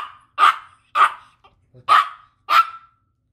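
A small dog barks four times in an even rhythm, sharp and close, with short silent gaps between barks and no voices.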